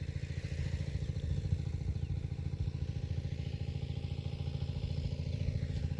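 An engine-driven pump draining water out of a fish pond runs with a steady, low, rhythmic chugging that keeps an even pace throughout with no talk.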